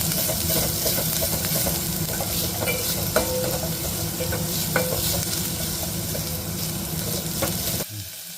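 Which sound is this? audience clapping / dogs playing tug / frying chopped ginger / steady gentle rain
frying chopped ginger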